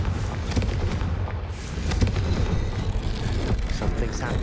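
A Confringo fire spell blast in Hogwarts Legacy bursts out with dull booming thuds over a thick, rumbling game soundscape, cast to light stone braziers.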